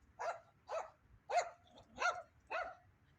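A dog at home barks five times in a steady rhythm, about two barks a second, moderately close and clear over a quiet background, with no one talking.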